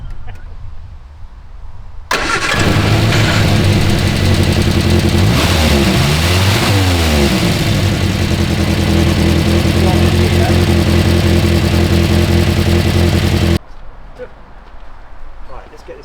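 A Morris Minor Traveller engine cranks and fires at close range, then settles into a loud, steady idle with a brief revving swell that lasts around ten seconds before cutting off, leaving faint background noise.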